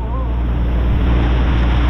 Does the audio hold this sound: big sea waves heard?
yes